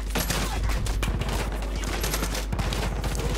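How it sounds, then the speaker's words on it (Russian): Rapid bursts of Far Cry 5 video game gunfire crackle continuously, dense and loud, with overlapping shots and a low rumbling background, no talking. "Отстреливаемся."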